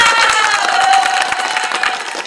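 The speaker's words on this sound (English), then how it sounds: "you get an applause" Audience applause and cheering aboard the Carnival Jubilee cruise ship: brisk, dense clapping from a crowd with excited voices over it, close and loud, sustained evenly throughout.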